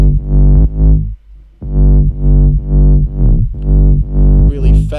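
Electronic dance remix drop with a heavy sub bass line, loud pulsing bass notes in a steady rhythmic pattern with brief gaps, bright synth layers on top and a noisy rise near the end.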